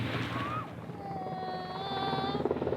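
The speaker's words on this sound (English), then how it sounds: "arrive in style in a helicopter assault at the end of a rope" A military helicopter at a US Army competition, its rotor and engine a steady rumbling whir with a high whining tone, joined by distant crowd noise and cheering.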